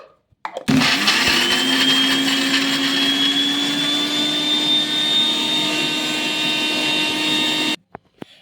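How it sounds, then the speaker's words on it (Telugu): A kitchen mixer grinder whirs loudly and steadily for several seconds while grinding curry leaves, coriander, garlic and green chilies into a smooth paste, starting and stopping abruptly. "కరివేపాకు కొత్తిమీర ఎల్లిపాయలు మన కారానికి తగ్గట్టు పచ్చిమిర్చి కూడా వేసుకొని మెత్తగా మిక్సీ అయితే పట్టేసుకుందాం ఇప్పుడు"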